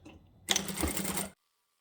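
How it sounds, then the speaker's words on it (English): A sewing machine chain-stitches two fabric pieces of a lined tote bag together, a short burst of rapid mechanical stitching that starts abruptly, runs about a second loud and close, then cuts off into silence. "we're just going to chain stitch the two pieces together all at once"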